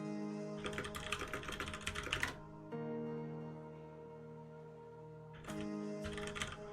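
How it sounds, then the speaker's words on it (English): Typing on a computer keyboard that squeaks subtly, heard as two bursts of close, quick key clatter separated by a pause, with a steady tonal hum running underneath. "Oh, your keyboard squeaks. It does squeak."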